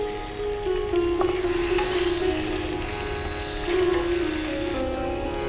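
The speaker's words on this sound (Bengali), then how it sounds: "আলুগুলো একটু লাল করে ভেজে নেব" Cut potatoes fry in hot oil with turmeric and salt for a Bengali red chicken curry, giving a steady close sizzle with soft stirring throughout and no voices.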